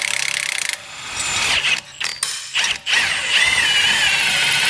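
A large hand ratchet wrench clicks in rapid bursts while a BMW E92 M3 gets an Öhlins TTX suspension install, close and loud, with scraping and rubbing between strokes.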